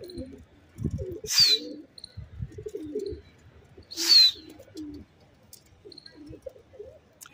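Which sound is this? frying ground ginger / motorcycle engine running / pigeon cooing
pigeon cooing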